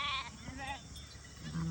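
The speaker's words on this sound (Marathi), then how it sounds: "हे पूर्ण मेंढ्या आहे मामाच्या." A flock of sheep bleats in short wavering calls, several overlapping near and far, while a person talks over them.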